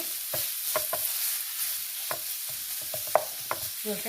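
Grated raw mango frying in a pan, with a soft steady sizzle under repeated scraping stirs of a spatula against the metal, close and fairly quiet.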